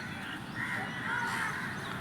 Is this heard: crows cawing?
yes